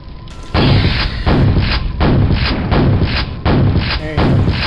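Heavy weapon fire from the first-person shooter Quake Mission Pack 1, a series of about eight loud, booming thuds at a steady pace, close and dominant.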